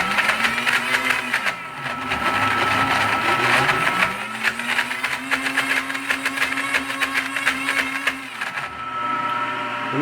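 A JR Ultra Touch 3 Quantum brushless blender churns thickening peanut butter, a loud steady motor whine and fan roar that dips and rises in pitch as the load shifts, with rattling from the jar throughout.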